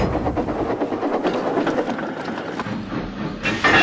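A slow goods train of trucks runs along the line, a steady rumbling clatter with hissing and clanking throughout, fairly loud and close, with no voices.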